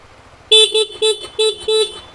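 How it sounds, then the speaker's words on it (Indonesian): A used motorcycle's horn sounds five short, loud honks in a quick, slightly uneven series, each a bright buzzy tone, with a faint idle rumble beneath and no talking. "Klakson masih sangat nyaring, masih berfungsi dengan baik."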